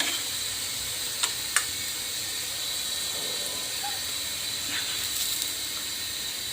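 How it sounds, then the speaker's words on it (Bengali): Tangra fish hitting hot oil with onions and chillies in a pan, giving an even, constant sizzle with a couple of sharp pops early on and no voices. "এখন আমি এখানে মাছগুলো দিয়ে দিব।"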